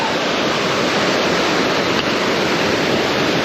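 Mountain torrents and waterfalls in the Ariège near l'Estours and l'Artigue give off a dense, constant roar of rushing water, loud and unbroken, with no talk.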